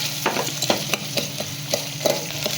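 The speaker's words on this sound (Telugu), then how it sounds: "అది కొంచెం బ్రౌన్ కలర్లో వచ్చేదాకా వేగాలి." Small green chilies and onions fry in oil in a pan, a steady close sizzle broken by several sharp scraping stirs of a spatula at uneven intervals, with no voices.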